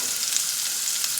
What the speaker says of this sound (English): in the cast iron skillet, I'm going to go ahead and I'm going to add all my asparagus